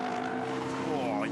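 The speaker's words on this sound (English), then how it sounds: "You can hear the understeer." A race car on R-spec road tyres, not slicks, squeals through a corner while understeering, a sustained tyre whine over a steady engine drone.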